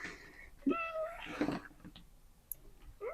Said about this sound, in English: So my cat is coming again.